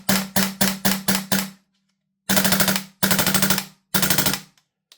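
A Lambda Defence B&T GHM9 Gen2 gas blowback airsoft rifle fires a rapid string of six sharp shots, then three longer full-auto bursts, each with a metallic bolt clatter, close and loud with brief silences between.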